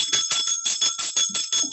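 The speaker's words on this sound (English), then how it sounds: "I want to ring the bell one more time, because that was deep." A bell rings in a rapid, even series of about nine bright strikes, close and clear.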